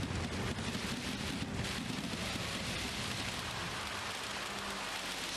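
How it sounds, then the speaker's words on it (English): Heavy rain in the Gran Turismo 7 racing game hisses in a steady, dense wash with no break, with low rumbling underneath and no voice. "That rain is enormously terrible."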